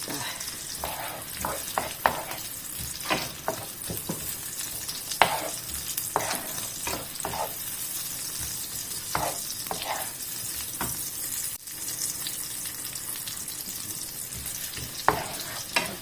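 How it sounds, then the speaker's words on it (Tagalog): Chorizo frying in a pan to render its fat: a steady, close sizzle with repeated scraping stirs throughout, and no one speaking. "lutuin natin yung chorizo para magbigay po siya ng konting mantika."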